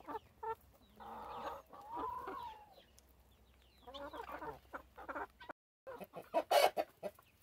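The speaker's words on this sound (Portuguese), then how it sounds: "Ali eu tenho um monte de pintinhos." Chickens and young chicks on a farm cluck and peep in scattered bursts, fairly close and moderately quiet, with short gaps between calls.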